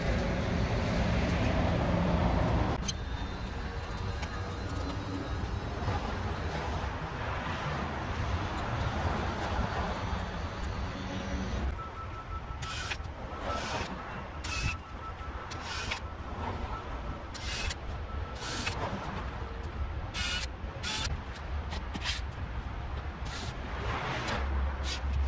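An RV's bottom rear slide-out under repair runs in and out on its motor, giving a continuous grinding, rubbing drone that shifts character partway through, later punctuated by short, sharp clicks and knocks.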